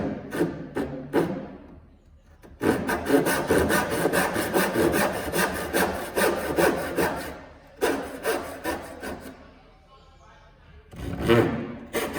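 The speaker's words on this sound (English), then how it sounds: "I'm going to use my tenon saw to cut out the straight lines in my pine" Tenon saw cutting pine clamped in a wood vise, steady back-and-forth rasping strokes in close, loud bursts separated by short pauses.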